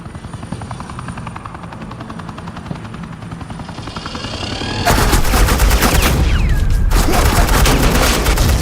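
Suppressing gunfire in a Batman video game roars in loud and dense about halfway through, a sustained barrage over a steady helicopter drone that runs throughout.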